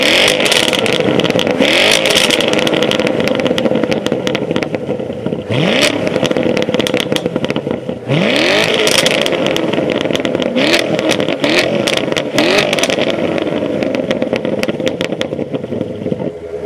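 Chevrolet C7 Corvette Z51 with a manual gearbox, its engine revved to about 3,000 RPM, loud and close, several rising and falling throttle blips over a steady idle rumble.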